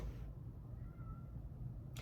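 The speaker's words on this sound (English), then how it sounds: "that's my cat" A single short, quiet meow from a cat, heard alone against a faint low background hum.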